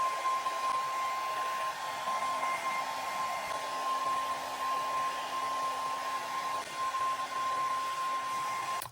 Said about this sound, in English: I'm going to use a blow dryer to dry it because I don't want my hair to be wet the whole entire day